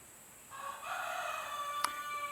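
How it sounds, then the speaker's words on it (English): A rooster crows once at a distance, a drawn-out, moderately faint call rising over a quiet outdoor background near a cabin. "that's the chicken crowing"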